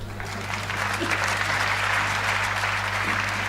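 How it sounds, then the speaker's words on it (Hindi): An audience at a Hindi comic poetry recital (kavi sammelan) claps in steady, full applause for a few seconds over a low electrical hum. "और ताली तो अब अगली पंक्ति पे बजाना आप।"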